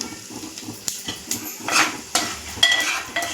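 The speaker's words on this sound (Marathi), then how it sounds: "चांगलं मिक्स करायचंय, परतून घ्यायचंय मंद आचेवर." Peanut chutney with homemade red chili powder stirred in a pan over low heat, with a spoon scraping and clinking against the metal in irregular strokes over a faint sizzle.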